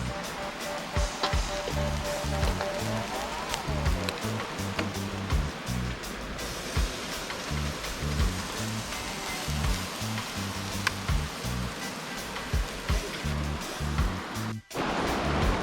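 Chicken breast sizzles on a grill, a continuous broadband crackling hiss at moderate loudness with a steady rhythmic low thumping running underneath, nearly the whole time, briefly cutting out near the end.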